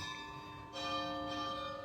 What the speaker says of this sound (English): I don't know if you can hear, but we have a bell here.